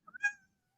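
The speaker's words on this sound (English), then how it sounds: "Hey, kitty cat." A house cat gives one short, clear meow near the microphone, preceded by a couple of brief chirps, then silence.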